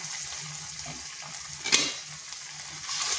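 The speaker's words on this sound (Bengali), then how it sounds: "এর ভালো করে একটু কষিয়ে নিচ্ছি।" Ivy gourd fries with a white and red mustard spice paste in a pan, a soft steady sizzle with a brief scraping stir in the middle.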